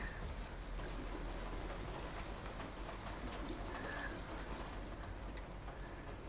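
Steady rain falls in a dark outdoor scene of the video game Detroit: Become Human, a continuous even hiss of drops with faint pattering and no voices over it.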